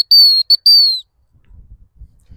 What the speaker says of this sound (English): Probably shouldn't have bothered with a hump whistle